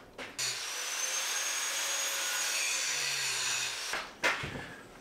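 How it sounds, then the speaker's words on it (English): An angle grinder grinds excess metal off a sand casting, a steady loud whine lasting several seconds alone, with short bursts of grinding contact at the start and end. "I'm going to grind off that bit and this bit and just check they're okay."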